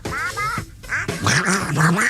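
A man imitates Donald Duck's quacking voice in a raspy, nasal run of squawky syllables, fairly loud and close, lasting about two seconds with a short gap partway through.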